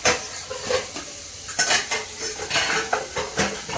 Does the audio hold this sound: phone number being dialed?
no